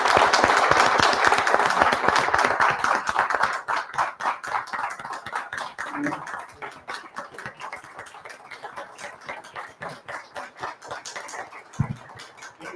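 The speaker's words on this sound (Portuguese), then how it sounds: "eu quero uma salva de palmas para o Assoni," Audience applause for Assoni, a hospital teacher, at a medical lecture on cervical glandular changes; loud dense clapping for about four seconds, then thinning into scattered claps that continue faintly to the end.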